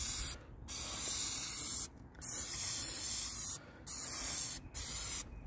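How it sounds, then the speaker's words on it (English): A spray can laying down a coating in sweeping passes: four steady bursts of loud, close hiss, each lasting about a second, broken by short silent gaps. "I'm just going to spray off to the side a little bit to see it"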